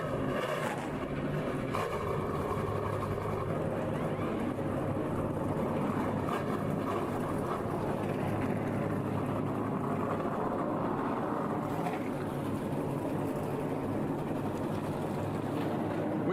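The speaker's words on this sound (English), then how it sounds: "Drivers, start your engines!" Several NASCAR Truck Series race trucks fire up their engines together at Iowa Speedway, a steady, loud low rumble with layered engine drone and crowd ambience running continuously throughout.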